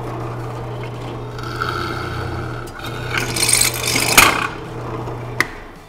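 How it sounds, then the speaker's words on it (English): A drill press bores straight through a piece of wood for a dowel jig, with a steady motor hum under a rising, rasping cut that peaks near the end. "So just throw it in there, drill a hole straight through."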